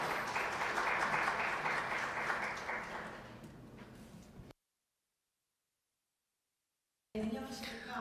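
Loud applause from a forum audience at the 2022 Jeju Forum rolls on for several seconds, then fades and cuts to silence before a voice begins.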